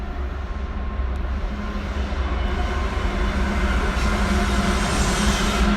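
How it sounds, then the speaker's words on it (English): Train passing near a mine site in British Columbia, heard as a steady, rumbling roar of rail cars, fairly close and continuous, with no one speaking. "We got another train, probably about 20 minutes."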